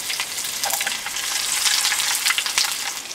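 Garlic sizzling in hot oil in a pan at a campsite, a dense, steady crackle and hiss with small pops, close and fairly loud, no talk.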